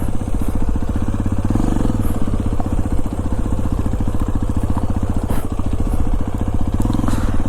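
A Hero Xpulse 210 motorcycle runs close and loud with a steady throbbing engine note and some crackle as it is ridden over rough ground to be parked, with no talk.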